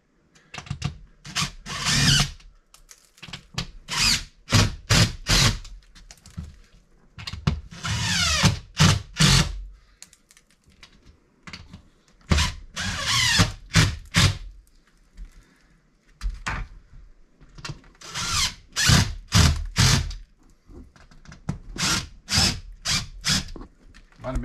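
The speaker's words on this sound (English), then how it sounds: "Use my little cheater screws to help hold it in place" A drill drives screws into Durock cement board for a shower install, with repeated short bursts of whirring and grinding separated by pauses. The bursts sound close and fairly loud, with no talking.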